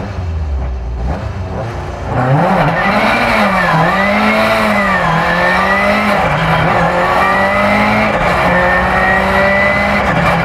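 A classic rear-wheel-drive Vauxhall race car with a naturally aspirated red top engine built to rev to 9,000 launches on a wet surface, the engine idling then surging into a loud sustained rev that wavers up and down.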